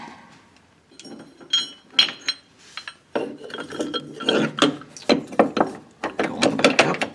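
Bracket bolts come out of an aluminum gas tank skid on a Jeep Wrangler JKU with a ratchet, which clicks in close, uneven bursts alongside metallic clanks and handling noises.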